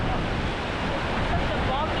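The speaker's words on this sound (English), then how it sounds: "what a beautiful waterfall" A waterfall on the west coast of the Scottish Highlands pours with a steady, broad rushing roar, loud and unbroken throughout, with no talk over it.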